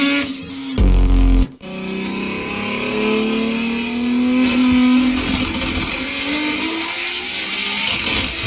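A roughly 2,500-horsepower turbocharged car engine revs hard and loud, a dense raspy roar with rising pitch sweeps and a brief sharp cut early on.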